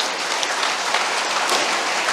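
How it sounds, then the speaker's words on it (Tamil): Audience applause filling an event hall at an award ceremony, a dense steady wash of many hands clapping throughout, fairly loud and even, with no voices over it. "ஒரு அரங்கம் நிறைந்த கைத்தட்டலை கொடுத்தா நல்லாயிருக்கும்."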